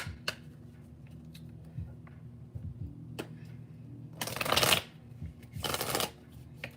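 Tarot cards being shuffled: soft scattered card taps, then two loud, close riffling bursts a second apart, with no talk.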